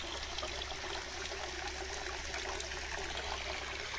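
Continuous quiet trickle of water flowing from a forest-edge fountain, a steady hissing flow with no pauses or voices.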